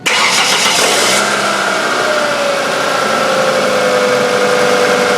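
A 2000 Ford Focus engine cranks and catches right away, then settles into a steady, loud idle that runs on alone without any speech, with a faint whine riding over the engine.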